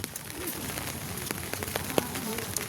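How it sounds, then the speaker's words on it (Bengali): Rain patters on a surface in a dense, fairly soft wash of drops, with a bird calling faintly in the background. "প্রচুর বৃষ্টি পড়ছে"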